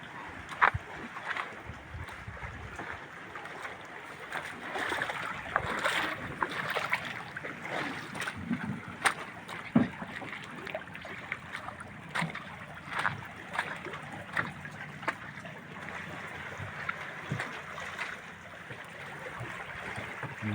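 Water laps and splashes against a small wooden outrigger boat (bangka), with soft knocks and paddling sounds, faint and steady throughout.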